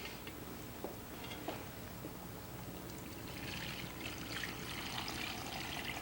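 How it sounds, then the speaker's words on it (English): Water pours into a pot of vegetables, a soft, steady trickle and splash that stays faint and close for several seconds with no talking. "you're just going to pour, there's some water right there"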